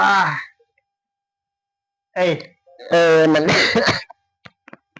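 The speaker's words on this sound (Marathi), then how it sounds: "लयच खोकला यायला तुला" A few short, harsh coughs come in separate bursts with pauses between them, close and fairly loud, followed by faint clicks.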